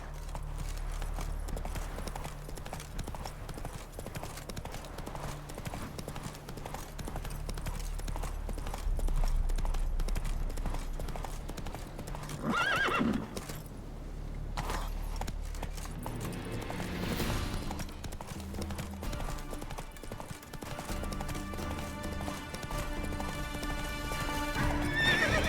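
Roach the horse gallops in The Witcher 3, a steady rapid clip-clop of hooves with snorts and whinnies over game music, running continuously throughout.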